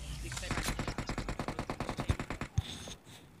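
M4 rifle fire in a PUBG-style shooter game rattles off in a rapid, even automatic burst of about twenty shots, followed by a couple of louder single reports, with a voice talking faintly over the gunfire.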